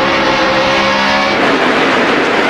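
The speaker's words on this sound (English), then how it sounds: "Did you hear that wheel spin, Benny?" NASCAR stock cars racing on track with a burst of wheel spin, loud continuous engine roar with a harmonic whine that drops away midway, leaving a broad close rush of engine and tire noise.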